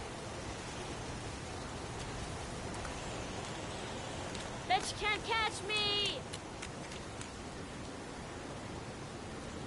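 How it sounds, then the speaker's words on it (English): Steady pouring rain hisses as a broad, constant downpour throughout a scene in the video game Heavy Rain, with a brief shouted voice breaking through midway. "It's pouring rain."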